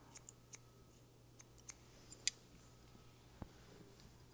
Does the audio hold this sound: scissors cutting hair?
yes